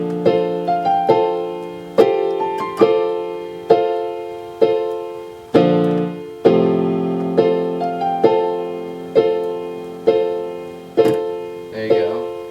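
Solo piano plays a song, with evenly spaced sustained chords and melody notes ringing out clearly and close up, without talking.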